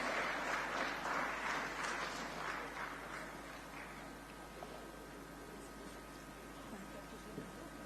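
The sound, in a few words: audience applause for speakers at a media summit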